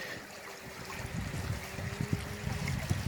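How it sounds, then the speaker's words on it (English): A creek running high with snowmelt and recent rain, a steady broadband rush and trickle of flowing water heard alone outdoors, even in level throughout with slight low rumbling. "And here's just another shot of the creek."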